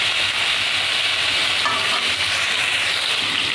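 Pointed gourds (potol) frying in hot oil give a loud, dense, continuous sizzle close up, with a faint scrape of stirring partway through and no voices.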